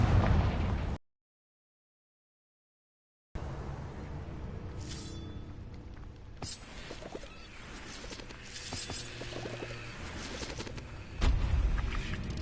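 Confringo, the blasting spell in Hogwarts Legacy, going off with bursting pops. A loud hit is followed by a stretch of silence, then scattered sharp blasts and crackles over a busy game soundscape, ending with a stronger burst.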